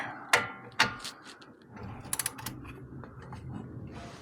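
A socket ratchet works on a bolt on the lower control arm of a Porsche 911 996: two sharp metallic clicks, then a quick burst of ratcheting clicks over a quiet workshop background, with no talking.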